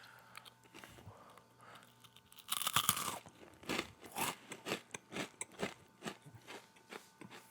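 Close, crisp crunching of sturdy, hard potato chips being bitten and chewed, a loud snap followed by a rhythmic run of sharp crunches, with nothing else in the background.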